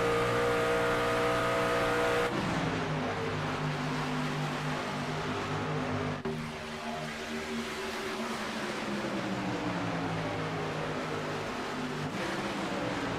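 Race trucks in an iRacing truck series at Chicagoland Speedway howl at full throttle, their engine notes droning loudly and continuously, with pitch shifts as cars pass and trade positions, with no talk over them.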